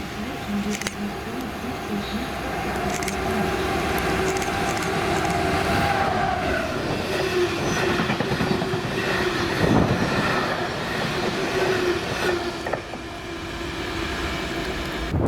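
DB Cargo freight train 6M51 hauled by class 66 locomotive 66187 rumbling past at Johnstone, with a steady heavy roar, engine drone and clattering wagons, fairly near and continuous throughout.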